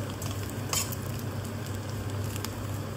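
Snail sisig frying in a pan gives a steady, dense sizzle with occasional crackles and light stirring scrapes, continuous and close.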